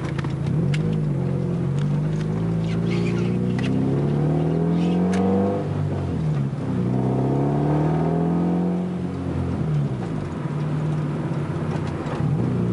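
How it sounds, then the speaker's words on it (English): Car engine idling, then revving and accelerating through a U-turn, with a steady mid-pitched drone rising and falling in pitch. Loud, close and continuous, with no talking. "Has a fairly decent idle. Just gotta make a U-turn."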